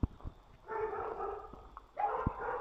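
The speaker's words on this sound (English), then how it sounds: "More dogs barking at night?" Dogs bark at night from a distance, in two fairly faint bursts of barking with a quiet pause between them.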